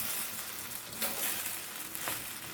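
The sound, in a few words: stirring cabbage into frying shrimp fried rice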